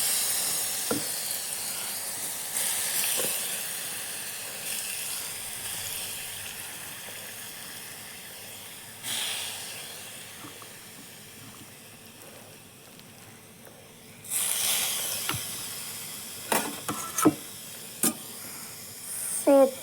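Grated radish going into hot oil in a wok gives a hissing sizzle that swells and fades, with a louder burst near the end and a few clinks from the utensil.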